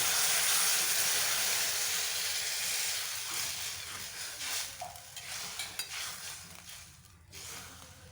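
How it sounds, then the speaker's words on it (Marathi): Warm water hits hot fried red masala with dried chillies in a pan for a fenugreek-leaf dish. A loud burst of hissing steam opens and slowly fades, with light stirring clinks toward the end. "लाल मसाला छान परतला की यामध्ये थोडंसं कोमट पाणी करून घेतलं होतं ते एक ग्लास ग्लासभर टाकते"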